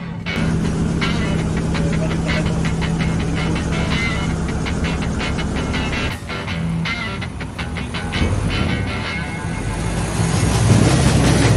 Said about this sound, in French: tout de suite on essaie de le tirer avec le véhicule et on verra si ça passe